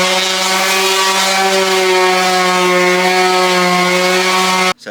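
A sander hums at a steady, loud pitch while wet sanding truck paint with 600 grit paper and soapy water, then cuts off abruptly at the very end.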